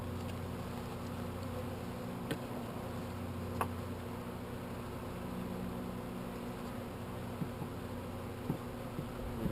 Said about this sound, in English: There's a couple of bees, and that's just the way it is.